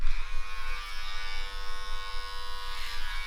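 An electric hair trimmer buzzes steadily and close up while cutting hair, a dense constant drone with slight wavering in loudness and no pauses.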